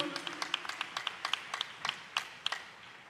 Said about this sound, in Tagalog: Isang malakas na palakpak para sa ating mahal na Panginoon